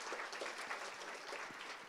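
Steady applause from a conference audience honouring those who passed a police assessment centre, a dense wash of clapping, moderately loud and unbroken.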